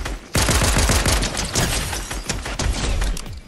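Rapid bursts of video game gunfire crackle loudly and close, automatic volleys overlapping and fading between fresh salvos.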